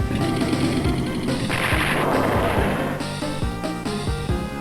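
Advance Wars 2: Black Hole Rising battle sounds as units attack rockets, loud booming cannon and explosive impacts layered with rattling gunfire and clanking, dense and continuous, then a few separate thuds toward the end.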